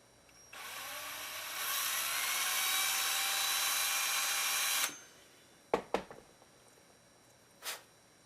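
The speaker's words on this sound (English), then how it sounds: "drill a hole" A power drill bores a hole near the edge of a plastic 50mm standard humbucker pickup bobbin, giving a steady high whine for about four seconds that stops abruptly, followed by a few sharp handling clicks.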